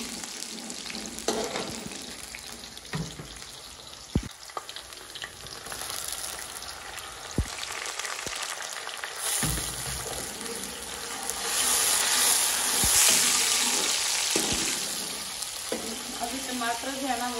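Tomatoes sizzle and crackle as they fry in very hot ghee for a tadka, a loud, steady frying hiss with occasional stirring clinks, under someone talking.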